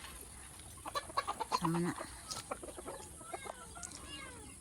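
Backyard chickens and roosters tied up outdoors: a rooster's crow and clucking rise among scattered closer and distant fowl calls, heard faintly under a short spoken remark.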